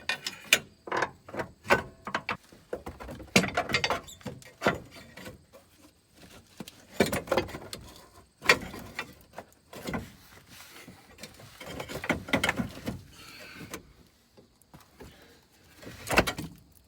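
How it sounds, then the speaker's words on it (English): A large flathead screwdriver pries at a Subaru WRX rear strut, producing irregular bursts of metallic clunks, knocks and scrapes separated by short quiet gaps, close and fairly loud. "try prying on it with my large flathead screwdriver"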